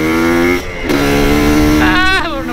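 Motorcycle riding off-road on a rural back road between barangays in Butuan City, its engine droning steadily close to the mic, rising and revving near the end, with people talking over it.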